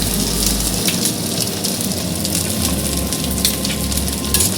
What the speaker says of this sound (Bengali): নারকেলটা একটু হালকা ভাজা করে নেব